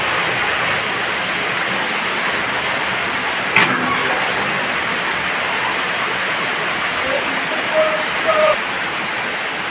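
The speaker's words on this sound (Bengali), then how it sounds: "প্রচণ্ড বৃষ্টি হচ্ছে, প্রচণ্ড বৃষ্টি" Heavy rain pours down steadily during a festival (puja) season, a dense continuous wash of noise with a few faint scattered sounds and no one talking.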